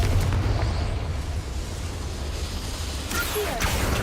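A Confringo spell explosion in the video game Hogwarts Legacy, heard as a dense, booming, rumbling blast that holds loudly throughout with a crackling swell near the end.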